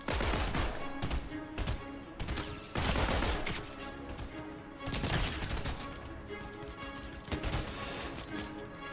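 Rapid bursts of gunfire from the video game Fortnite, loud repeated shots in clusters with brief pauses between volleys.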